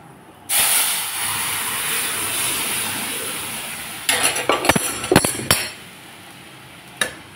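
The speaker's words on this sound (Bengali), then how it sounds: "দিয়ে দিলাম সরষের তেল, দিয়ে দেব কালো জিরা ফোড়ন, দিয়ে দেব ডাল।" Nigella seeds and dal hit hot mustard oil with a sudden loud hiss that settles into a steady sizzle, then a few sharp spattering crackles and stirring clatters near the end.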